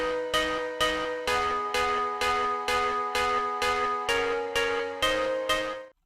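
Synth pluck in a big room house EDM track, layered with short reverb and delay, ten bright plucked notes repeating in a steady rhythm, each with a ringing decaying tail, clean and alone before cutting off.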